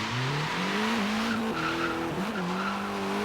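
A car launching off the line in Forza Horizon 3, engine revving up through rising pitch with tire squeal, loud and close, a continuous acceleration pull with a brief gear shift dip.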